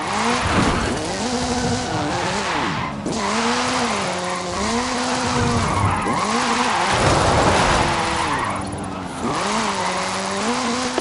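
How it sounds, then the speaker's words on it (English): Ken Block's Hooligan Gymkhana 10 Ford Focus RS RX, a 2-litre turbocharged front-engined all-wheel-drive rally car in Forza Horizon 5, revving hard with the engine note climbing and dropping through shifts and tires squealing in slides, loud and close throughout. "This is Mr. Kenneth Block's Hooligan Gymkhana 10 Ford Focus RS RX."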